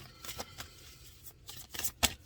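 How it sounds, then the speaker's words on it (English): Oracle cards from an astrology-themed deck are given a quick riffle shuffle, a few short papery flutters and snaps ending in a sharper crisp burst, with no talking. "so give a quick shuffle, see if a card is going to pop out"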